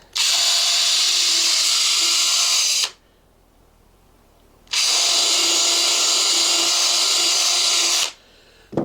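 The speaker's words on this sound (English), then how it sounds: "I'm going to take another screw and drive it in here in the front" A power drill drives a screw into a wooden slot-style bluebird nesting box in two loud, close whining bursts of about three seconds each, separated by a short quiet pause.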